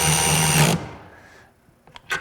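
DeWalt Xtreme 12V 3/8-inch sealed head cordless ratchet running down a bolt, a loud whirring motor for under a second that stops abruptly, then a couple of sharp clicks after a short quiet.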